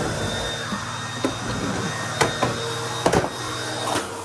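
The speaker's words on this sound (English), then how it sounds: "I do want to get as many of the carpets vacuumed" A household vacuum cleaner runs on carpet with a loud, steady motor drone, broken by occasional knocks and bumps as it moves, close and with no talking.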